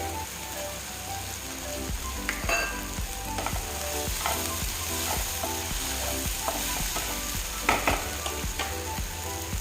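Drumstick chutney ingredients sauté in a hot pan with a continuous sizzle and regular scraping stirs of a spoon, all close and steady, with a faint hum and some music under it.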